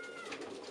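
Sport pigeons coo softly in a short, low, murmuring burst, close by against a steady background hiss.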